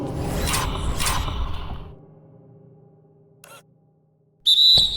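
A referee's whistle halts play at an NBA Finals game between the Pistons and Grizzlies, with one sharp shrill blast near the end that follows a quiet stretch after crowd and court noise fade.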